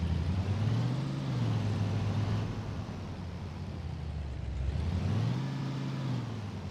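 A vehicle engine in Arma 3 hums steadily as it drives through a series of gates, its pitch rising and falling twice as it speeds up and eases off, moderately quiet with no talk.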